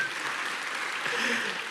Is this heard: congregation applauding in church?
yes